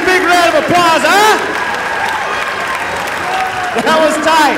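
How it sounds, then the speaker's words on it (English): Crowd applause at a pig and Ford race event, steady clapping and cheering from many spectators throughout, with an announcer's amplified voice talking over it. "Give those guys a big round of applause, huh?"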